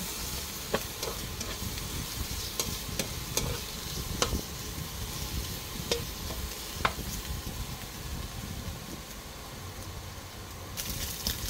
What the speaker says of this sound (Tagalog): Pagmamantikain natin to guys. At dito tayo kukuha ng mantika para sa ating panggisa.